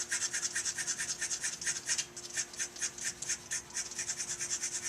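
Rhythmic scraping strokes on the top limb of a homemade Mollegabet-design longbow, a steady series of close, rasping pulls repeating about every quarter second, with no talking.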